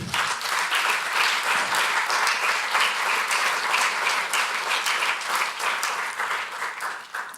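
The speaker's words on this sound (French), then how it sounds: "On les applaudit aussi" Sustained audience applause for first-year students at a school ceremony, a dense even wash of many hands clapping steadily throughout, loud and close, with no talk over it.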